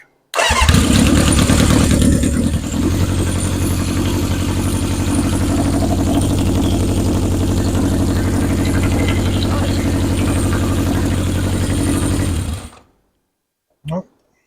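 A 1977 Honda CB750 chopper motorcycle engine cranks and fires up, settling into a loud, rapid, steady chatter for several seconds before cutting off, followed by a short clunk.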